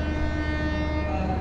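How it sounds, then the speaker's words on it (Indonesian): The Manahan passenger train from Solo to Gambir departing, a steady tonal horn-like drone over low engine rumble, brief and moderately distant. "Kereta Manahan dari Solo ke Gambir."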